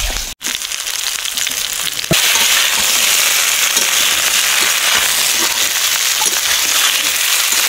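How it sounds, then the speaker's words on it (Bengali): Fried vegetables hit hot oil in a wok with a sudden loud burst of sizzling, then a dense, steady crackle that stays strong to the end. "এবার আমি দিয়ে দেবো আমার ভেজে রাখা প্রত্যেকটা সবজি"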